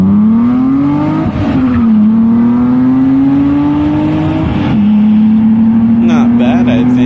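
A BMW with a 2.7i engine races another car, its engine droning loud and close with steady pitch climbs through the gears, a brief dip between shifts, and a tire squeal near the end.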